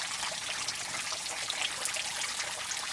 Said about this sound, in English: water trickling from up there.